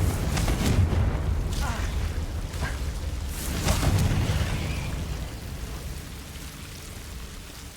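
A Confringo blasting spell bursts in the video game Hogwarts Legacy, with two loud, rumbling explosions about three seconds apart that roll off into a long, noisy tail of debris and crackle.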